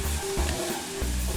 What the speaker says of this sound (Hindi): और अब हम प्याज को हल्का ब्राउन होने तक इसको फ्राई करेंगे